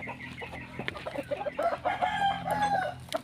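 Several native chickens cluck and murmur close by while eating, with a rooster-like call rising in the middle over a busy barnyard background.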